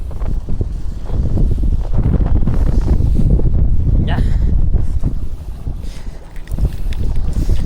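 Strong wind roars steadily across the microphone on a fishing boat at sea, a dense, loud, continuous rush with faint voices underneath.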